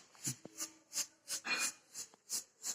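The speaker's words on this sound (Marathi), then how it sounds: "आता बघा ह्याच्यामध्ये मी किसून घेते" Boiled potatoes grated by hand on a small grater, quiet rhythmic rasping strokes repeating about every third of a second, close and alone.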